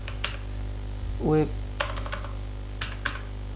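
Fingers type on a computer keyboard in short, uneven bursts of close, crisp key clicks, with a brief tonal sound in the middle.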